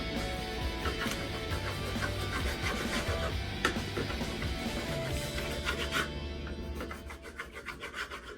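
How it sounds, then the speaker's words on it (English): A knife cutting steak into strips for fajitas, heard as a steady rasping, scraping rub against a cutting board, continuous and close, with sharper strokes and ticks toward the end. "So what we do is cut these into slices"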